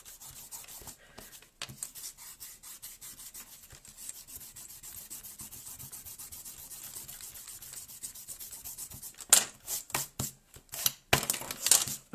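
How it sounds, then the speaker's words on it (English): Eraser rubbing out a pencil drawing on paper, steady rapid scratchy strokes close by that grow louder and more choppy toward the end, with brief pauses between bursts. "now what I'm going to do is rub the lot out"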